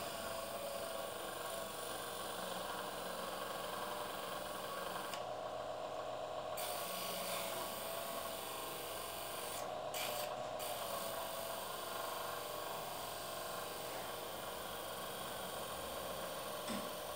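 Small, weak homemade electric motor spinning a pulley while the pulley is pressed against it, a steady continuous whirring and rasping drone that runs unbroken, close and moderately loud, with no talk.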